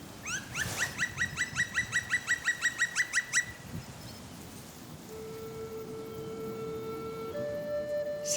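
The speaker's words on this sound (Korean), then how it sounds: "새소리와 청아한 물소리만이 고즈넉함을 깨우는 내설악 계곡" Birds in a mountain valley in Inner Seorak give a quick run of rhythmic honking calls, then fall quiet under the constant rushing hiss of a clear flowing stream, with sparse later calls.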